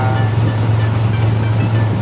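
A boat motors along a river through peat swamp forest at reduced speed, giving a steady, loud low engine drone layered with rushing water and wind noise, with no talking.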